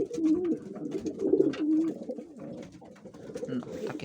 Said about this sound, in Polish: Gołąbki są właśnie tak pięknie oswojone. Z ręki jedzą.